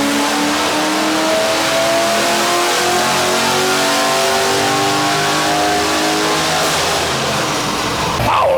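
A cammed V8 ute engine revs hard on a dyno, a loud, sustained climbing roar with a lumpy note that rises steadily to the end of the run.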